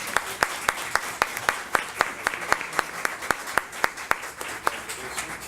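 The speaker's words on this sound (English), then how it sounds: "let's give them all a round of applause" Audience clapping at a school board meeting, a steady run of sharp individual claps from a modest crowd, moderately quiet and lasting several seconds.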